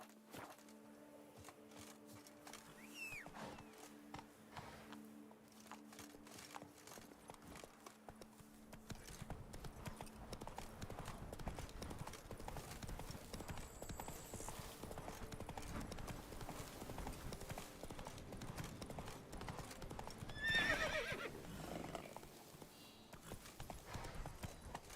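Roach, the horse in The Witcher 3, moving in a quick clip-clop of hooves on the ground with a steady rhythm that builds louder midway, plus a brief whinny near the end over game ambience.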